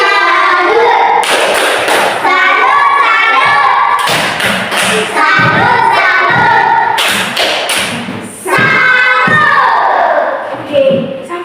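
Group of children clap in rhythmic bursts of a patterned clapping greeting, some chanting along loudly between claps.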